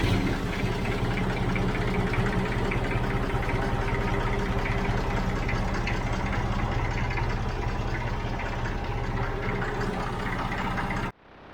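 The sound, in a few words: vintage diesel tractor engine running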